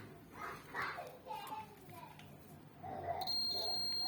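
A Mastech digital multimeter gives a steady continuity-test beep that comes in near the end and runs continuously. It plays over a noisy room where children are heard talking and playing.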